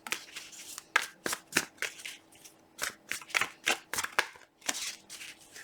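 Tarot cards are shuffled close up in quick riffling bursts, a dozen or so papery flicks in an uneven rhythm, faint and with no voice.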